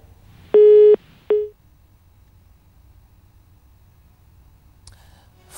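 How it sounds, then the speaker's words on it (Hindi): Two electronic phone beeps mark a call connection dropping during a live TV news broadcast, a longer steady tone followed by a short one, then near silence with faint background hiss. "फोन की बीप से पता चलता है कि फिलहाल संपर्क टूट गया है उनसे"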